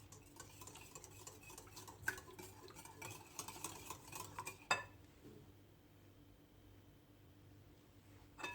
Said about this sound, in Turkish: Evet iyice karıştırdık yoğurtlu yumurtamızı.